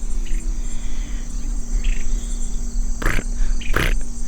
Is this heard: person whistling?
no